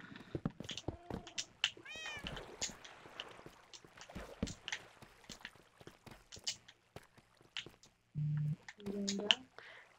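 A house cat meows a few times at close range, the calls mixed in with steady talking from a person nearby.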